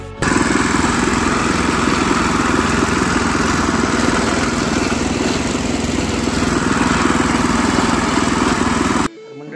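A tractor engine runs on a farm with a loud, steady, unbroken drone close by, holding constant for about nine seconds before stopping abruptly.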